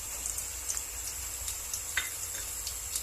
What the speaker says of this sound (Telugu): బాగా అల్లం వెల్లుల్లి పేస్ట్ పచ్చివాసన పోయేంత వరకు వేయించుకోవాలి.